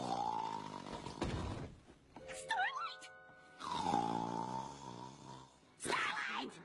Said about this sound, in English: Your snoring is a bit, Loud?